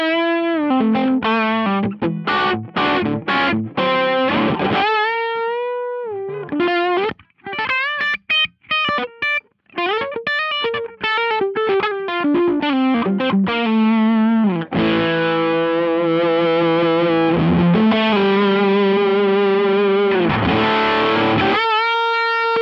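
Electric guitar on Sire humbucker pickups, played through a Mozztronics HA-2 headphone amp with everything turned up, gives a loud distorted tone: choppy chords and riffs, short melodic runs, then long sustained ringing chords with no talking.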